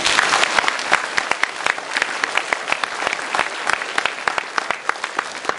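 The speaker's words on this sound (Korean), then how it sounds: "박수 한번 보내주실까요?" Audience at a lecture hall talk in South Gyeongsang applauds steadily, a dense wash of many hands with sharp individual claps standing out, fairly close and sustained throughout.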